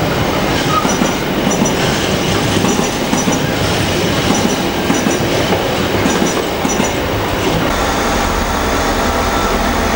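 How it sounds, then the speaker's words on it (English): A train rumbles past close by at Newport, with a continuous roar, rhythmic clacking wheels and faint metallic squeals throughout. "And we've got another train now."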